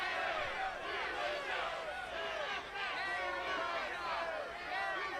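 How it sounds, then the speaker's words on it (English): A wrestling crowd at Ballpark Brawl jeers Petey Williams, a dense, fairly faint wash of mixed voices with rising and falling hoots and calls, heard from a distance with no single voice standing out. "A lot of raspberries from the crowd here towards Petey Williams"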